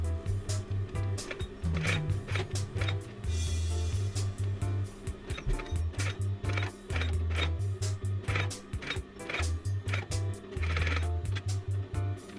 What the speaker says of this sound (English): We are now sewing the gathers for the neckline of the dress.